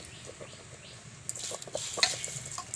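Rice being stirred into boiling milk for payesh: a soft, close scraping and swishing in the pot with faint bubbling beneath, gentle and quiet throughout.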